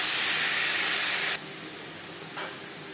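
Ginger and green chili paste hits hot oil with bay leaves and five-spice tempering, giving a loud, steady broadband sizzle that abruptly drops to a quieter hiss, then a brief flare of sizzling near the end.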